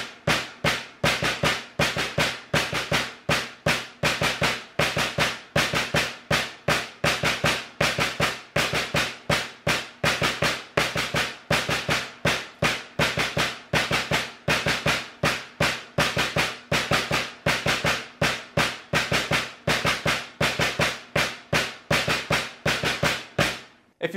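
Drum practice exercise played with sticks, accenting beats 1, 3 and 4 of each bar: a long, even stream of sharp, loud strokes in a steady repeating pattern, with no voice over it.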